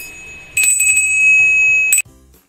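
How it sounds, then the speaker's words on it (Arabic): A bell rings with a bright, sustained metallic tone, struck once and ringing steadily for about a second and a half before cutting off; loud and close, with no voices. "ونتيجة اهتزاز الجرس."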